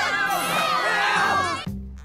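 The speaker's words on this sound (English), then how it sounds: "Those who think it's me, cheer louder." A cartoon crowd of students cheers and shouts loudly in a dense burst of overlapping voices, which cuts off abruptly into a low hum.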